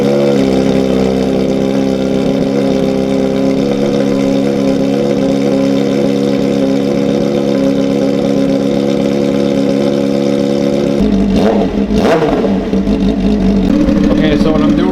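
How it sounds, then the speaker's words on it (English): A new motorcycle engine idles steadily and loud nearby, holding an even low drone for most of the stretch before a brief disturbance near the end, then settling back. "what I'm doing right now is let it idle"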